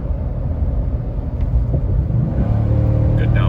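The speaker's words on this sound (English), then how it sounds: "I'll do one lighter acceleration here" A 2023 Ford F-350 Tremor pickup with the 7.3 engine accelerates lightly, a low steady engine rumble heard from inside the cab, rising slightly in tone toward the end.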